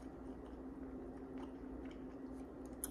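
Fried cheddar bites dipped in Zax sauce are chewed quietly and close by, a soft, squishy, steady mastication with little crunch.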